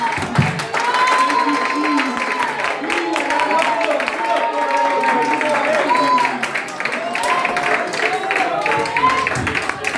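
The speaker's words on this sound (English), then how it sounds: "Let's clap one more time for the Lord" Congregation clapping during a Sunday church worship service, continuous loud clapping from many people, with voices calling out and singing over it throughout.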